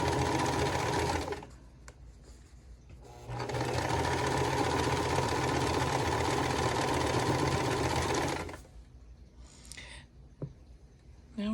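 A sewing machine runs in two steady bursts, stitching quilt block pieces together, with a close, even mechanical whir and a short pause between runs, followed by light handling sounds.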